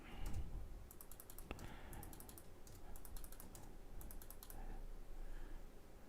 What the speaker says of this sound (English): I'm beating my keyboard up.